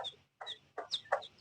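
A hen clucks softly in a few short, separate bursts, heard close but faint, in a quiet farmyard setting where she is moving about with her chick.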